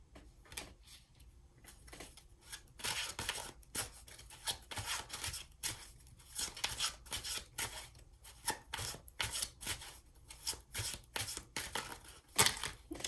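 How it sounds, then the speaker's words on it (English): A deck of tarot cards is shuffled by hand in repeated quick riffles and slides, a crisp papery rasping that comes in uneven bursts, close and fairly loud with no talking. "let's keep shuffling"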